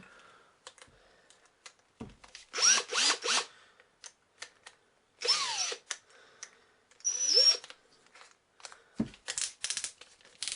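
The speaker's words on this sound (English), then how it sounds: "We'll put the shell holder in the drill first." A handheld drill spinning a shell holder for rifle case neck turning whirs in several short bursts, starting and stopping, with small clicks and handling noises in between.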